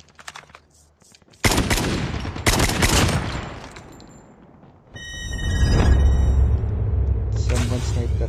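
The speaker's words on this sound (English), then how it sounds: "Someone sniped that guy" Sharp gunfire bursts in Call of Duty Mobile battle royale, loud cracks and rattling volleys echoing in uneven clusters, followed by a rising rumble and lingering game noise.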